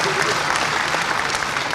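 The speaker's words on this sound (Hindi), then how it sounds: "आप सबसे अनुरोध है, ऐसी ताली बजा के उनका स्वागत करें" An audience in Indore claps steadily to welcome the Chief Minister at a public event, a dense, even burst of applause throughout.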